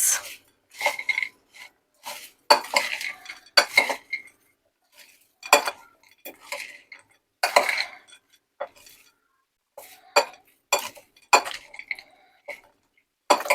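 A spoon mixing roasted chana chaat in a bowl, giving irregular bursts of clinks and scrapes against the bowl with short silent gaps between, close and fairly crisp, no talk.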